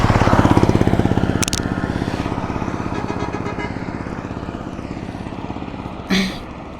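Riding a 4V motorcycle, the engine pulses with a rapid, steady beat that slowly eases and drops in pitch, loud and close, with a short burst of wind noise near the start and another near the end, no talking.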